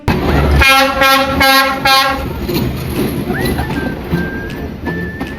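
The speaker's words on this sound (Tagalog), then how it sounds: "At dahil malapit ng dumaan ng tren, nagliligpit na sila ng mga mesa at mga upuan." Train running along the street railway through a Hanoi neighborhood, loud and close, with a series of long horn blasts early on, then rumbling wheels and a squealing screech as it passes.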